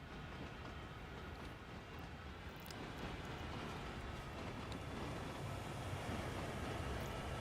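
Train running in Train Sim World 2 on the Cane Creek route, a continuous low rumble and rolling wheel noise that holds steady and grows slightly louder, with no voices.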